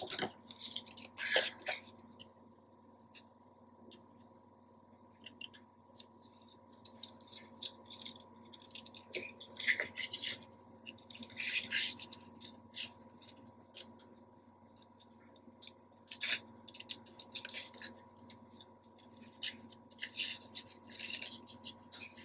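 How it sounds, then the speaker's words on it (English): Scissors snipping paper while trimming a piece for a handmade mini album, light irregular clicks and cuts repeating close by in a quiet room, with no talking. "So I'm gonna cut a little more away."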